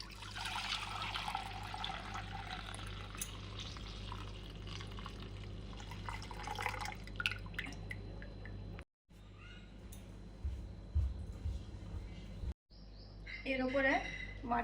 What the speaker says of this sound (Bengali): যেখানে ওই ভাঁড়টা রাখা আছে দই বসানো ওখানে গিয়েই দুধটা ঢেলে দেব ঢেলে দিচ্ছি